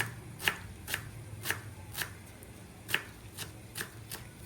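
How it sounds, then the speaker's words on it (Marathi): Fresh coriander being chopped with a knife for garnish in a home kitchen, heard as a series of evenly spaced, sharp chopping taps alone without talk. "मी कोथिंबीर कापून घेते पहिला पटकन"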